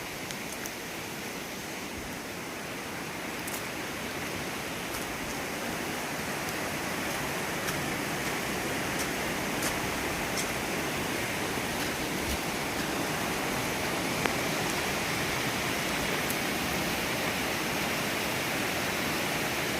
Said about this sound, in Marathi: हे बघा नदीला आलेलं पाणी.